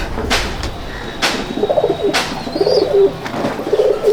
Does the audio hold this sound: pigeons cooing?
yes